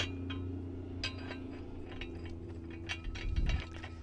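A large threaded screw on a BAL camper leveler being turned in by hand, giving a low steady mechanical grinding with faint metallic clicks and a louder rumble near the end.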